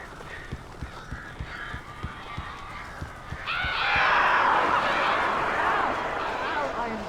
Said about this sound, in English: This isn't normal. These birds are weird.